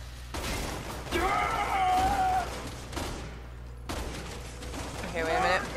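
Bursts of in-game gunfire and shotgun blasts from Resident Evil 6 sound close and loud in two clusters, with game effects mixed in and players talking over the shooting.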